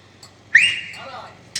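A single loud, sharp whistle in a Tamil village stage comedy drama rises quickly and then holds for about a second, with faint short sounds before and after it.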